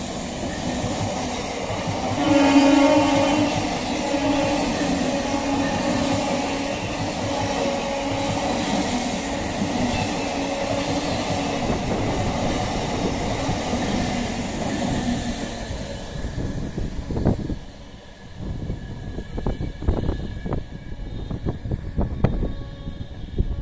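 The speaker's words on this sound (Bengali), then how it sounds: "31621 up Sealdah Ranaghat local Kakinara rail station ছেড়ে পরবর্তী রেল স্টেশন নৈহাটির দিকে যাচ্ছে" A Sealdah–Ranaghat suburban local train pulls away from Kankinara station, its continuous rolling rumble and wheel noise holding steady before thinning out near the end into scattered clanks and quieter track sounds.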